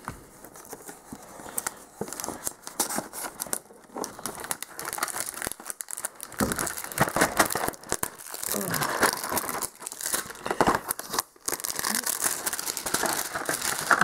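Plastic shrink-wrap on a sealed Dark Potential starter box being sliced and torn open with a small hobby knife, a long run of close crinkling, crackling and tearing with brief pauses, loud and busy throughout.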